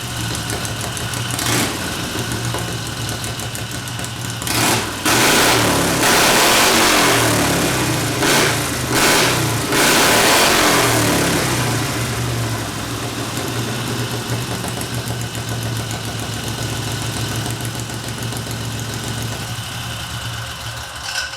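A car engine with a loud old exhaust pipe revs hard, surging in several bursts before settling back to a steady, rumbling idle, close and loud throughout.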